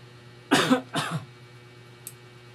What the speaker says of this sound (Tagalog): medyo inuubo pa tayo